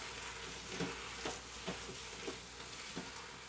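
A spoon stirs tomato puree and garlic into a gammon campfire stew in a slow cooker or pressure cooker pot, giving soft scraping strokes about every half second over a steady low sizzle.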